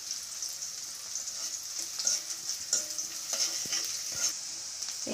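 Onion is stirred and fried in a pan with white cardamom and cinnamon, a steady bright sizzle broken by repeated scraping strokes of a spatula, close and clear, no talk.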